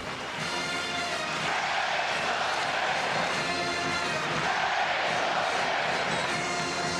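Roaring basketball arena crowd in Ames cheering a three-pointer during an Iowa State versus Kansas college game, a loud, sustained wall of cheers and shouts that swells and holds throughout.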